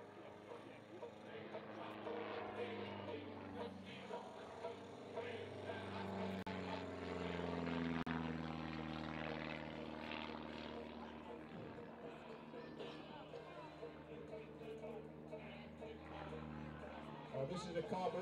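A home-built Swedish light aircraft with a small 90 horsepower carburettor engine at the nose flies a display, its propeller drone rising and falling steadily at moderate distance beneath continuous commentary.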